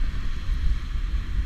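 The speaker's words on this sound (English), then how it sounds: "Sorry about the wind." Wind blowing on a beach with the tide in, a steady low rumbling buffet against the microphone that stays loud and unbroken throughout, with no voices.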